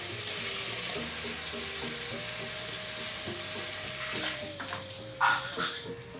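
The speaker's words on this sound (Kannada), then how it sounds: "ಈಗ ನಾನು ಇದು ಮಶ್ರೂಮ್ ಹಾಕ್ತಾ ಇದ್ದೀನಿ." Mushrooms fry in a hot pan for mushroom pulao, giving a steady, dense sizzle throughout, with a couple of louder clatters near the end.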